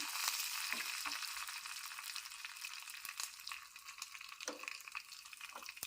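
Dried red chillies and curry leaves crackle and sizzle steadily in hot oil for a Mangalore temple-style cucumber sambar tempering, a close, continuous frying hiss with a few sharper pops and no talking.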